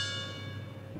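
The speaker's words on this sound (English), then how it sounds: "I'm gonna miss those bells." Church bells ringing in Positano on the Amalfi Coast, a brief sustained chime with bright overtones that slowly fade, heard alone.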